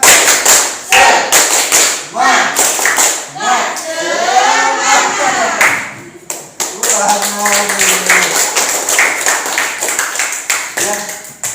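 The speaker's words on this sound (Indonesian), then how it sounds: "kita tepuk semangat dulu ya" Schoolchildren in an Indonesian classroom perform a rhythmic spirit clap with the teacher, bursts of claps and taps alternating with chanted group voices and cheering, close and lively.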